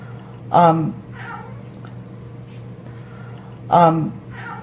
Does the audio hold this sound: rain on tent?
no